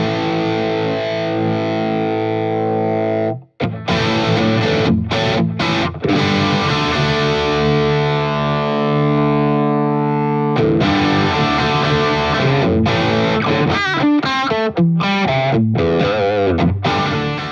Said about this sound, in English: the thick, burly, articulate crunch of an early Mesa Boogie Mark II